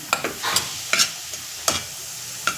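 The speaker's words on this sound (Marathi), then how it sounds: "तर आता गुळ मिक्स केला आहे आणि आता हे परतून घेऊ आपण कमी गॅसवर सारण" A jaggery and ghee filling for ukadiche modak being stirred in a pan over low heat, about six crisp spatula scrapes at an uneven pace over a faint sizzle, close and with no talking.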